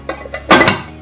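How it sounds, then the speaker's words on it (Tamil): A pressure cooker lid is shut without its gasket while baking a sponge cake: a few light metallic taps, then a louder clattering clack as the lid seats, close and alone. "நம்ம இப்போ குக்கரை க்ளோஸ் பண்ணிட்டோம்"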